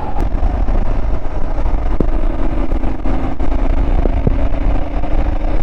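A motorcycle engine rolls at steady speed across a high mountain plateau at 3,350 metres in Peru, a loud constant drone with wind rush and a faint rising whine, no pauses.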